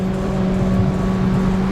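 A Mitsubishi Outlander driven fast through city streets at night, its engine drone steady and loud with constant road and wind roar, no gaps or shifts over the short stretch.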